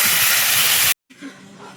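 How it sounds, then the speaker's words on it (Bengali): Water poured into a hot pan of frying fish bursts into a loud, broadband steaming hiss, cuts out briefly, then returns as a lower, settling sizzle. "এবারে তো জল দিয়ে দেবো।"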